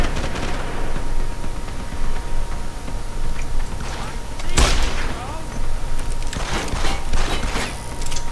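Gunfire in the video game Deus Ex Human Revolution: one sharp, loud shot cracks out midway, followed by a few quicker bursts, over a constant busy game background.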